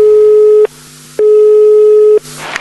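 A telephone busy signal on a conference call sounds as two loud, steady beeps separated by a short gap, with a faint click at the end and no voices.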